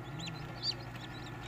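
Farm chickens cluck softly near their feed, a few short chirpy calls rising over a steady low hum of background noise.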